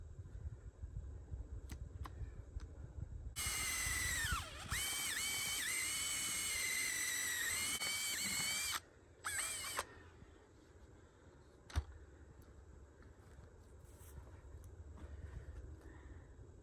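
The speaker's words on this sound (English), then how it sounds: "I'm going to drill my hole." A high-pitched power drill boring a hole whines steadily for several seconds, briefly stops, then bursts on again, close and loud over a low background hum.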